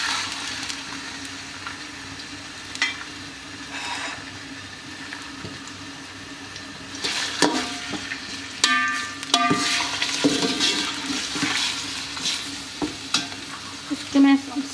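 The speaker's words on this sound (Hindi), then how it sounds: "इसको मैं अच्छी तरह से तल लूंगी चिकन को" A kilo of chicken fries in a pan with garlic, giving a steady sizzle that swells as a spoon stirs and scrapes through the pieces, with no talking.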